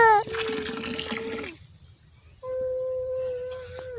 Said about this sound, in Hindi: नाल को मुंह लगा कर पी रही थी पानी